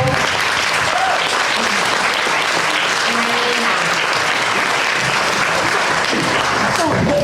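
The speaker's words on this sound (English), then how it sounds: "we can give you a round of applause" Sustained applause from a seated audience at a justice system conference honoring a jail team, broadband and steady for the whole stretch, loud and close with no voices breaking through.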